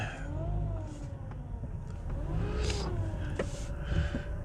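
A CVT transmission whines steadily while the car's engine revs, with the pitch rising and falling as the revs change; the car has fault codes P0741 and P0777 logged.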